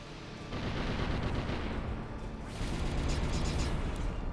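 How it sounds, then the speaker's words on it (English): Sustained rattling gunfire from shooting in the strategy video game Symphony of War, dense and loud, continuing without pause alongside game noise. "Shoot him again."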